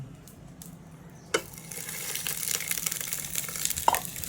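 Pearl spot fish fried in a hot oiled pan, a soft steady sizzle swelling after a sharp clatter as a piece is laid in, with a second small knock near the end; no voices.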